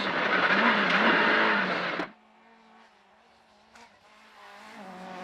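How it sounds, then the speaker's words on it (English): A Vauxhall Nova rally car at maximum attack on a forest rally stage roars loudly past at speed, tires squealing, then cuts away to quieter engine noise that builds again. "Derek Mackerel was at maximum attack as usual in his Vauxhall Nova"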